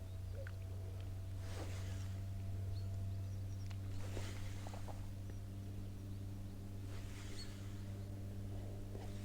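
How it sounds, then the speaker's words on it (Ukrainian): A motorboat runs on the water during autumn fishing from a boat, a steady low engine drone held at a distance throughout, with faint splashes and small sounds near the boat. "Якийсь вже моторний човен вийшов на воду."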